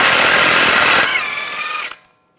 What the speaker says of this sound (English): I'm going to take the axle nut off, use a 32mm socket